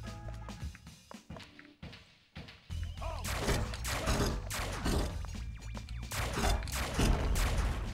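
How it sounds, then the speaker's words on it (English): Shotgun fire in a Futurama video game, a dense run of heavy booming blasts and thuds over game noise after a quieter start, loud and close. "Let's try use a shotgun on him, see how effective it is."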